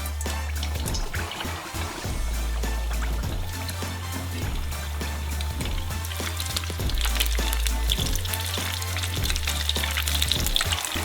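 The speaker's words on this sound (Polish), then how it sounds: "gdy są gorące, wysyłamy nasze mini pizze do smażenia" Mini pizzas fry in hot butter, a dense crackling hiss with occasional pops, continuing throughout over a low steady hum.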